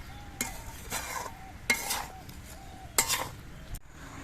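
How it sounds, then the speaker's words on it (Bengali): A spoon scrapes and clinks through vegetables with salt and turmeric in a pan, several distinct stirring strokes with a faint sizzle beneath, close and fairly quiet. "এবার একটু নেড়ে চেড়ে সব কিছু দিয়ে মিশিয়ে নিতে হবে"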